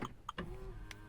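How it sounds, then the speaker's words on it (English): The central locking on a Land Rover Freelander clicks in a few quick, faint actuator snaps, with a soft whirr between them, heard close and quiet over a still background. "just check that it locks and unlocks"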